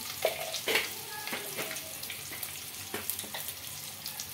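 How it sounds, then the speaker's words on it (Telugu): Eggs frying in a pan with chili powder and turmeric for egg dum biryani: a soft, steady sizzle broken by several sharp scrapes and taps of stirring, close by and without speech. "కొద్దిగా పసుపు వేసి బాగా ఎగ్స్ ఫ్రై చేసుకోవాలండి."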